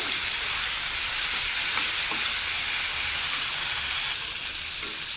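A loud, steady hiss of beans frying in a pan fills the whole stretch, with a few faint clinks of stirring underneath.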